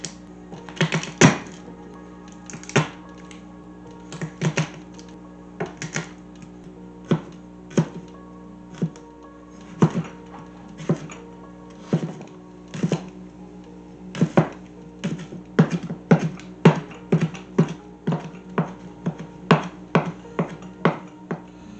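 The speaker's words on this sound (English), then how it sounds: "I'm going to cut up some potatoes, leeks, garlic," Knife chopping potatoes, leeks, garlic, parsley and thyme on a cutting board, a steady series of close, sharp taps and thunks in uneven bursts with no talking.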